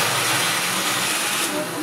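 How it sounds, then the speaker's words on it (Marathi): A kitchen mixer grinder runs continuously while grinding onion chutney, giving off a loud, steady whirring roar for about two seconds. "आता आपण मिक्सर लावून घेऊया."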